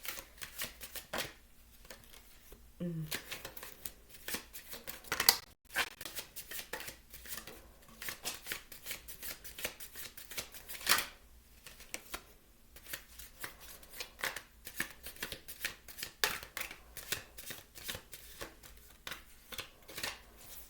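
Tarot cards are shuffled and drawn in a quiet room, a long run of quick papery riffles and soft flicks that continues almost without pause.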